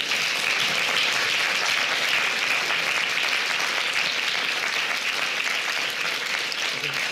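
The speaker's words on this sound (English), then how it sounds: "I would ask you to engage in thunderous prolonged applause." An audience at a clinician-scientist session breaks into sustained applause, a dense, even roar of many hands clapping that holds steady for several seconds.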